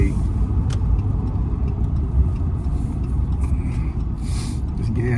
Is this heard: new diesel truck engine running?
yes